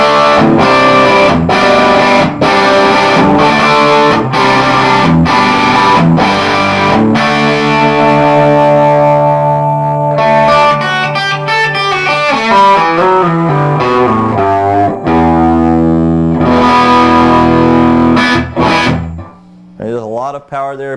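A loud, heavily overdriven electric guitar through a Little Walter 8-watt tube amp at full volume plays chords and riffs, crunchy and saturated, ending with a few ringing notes.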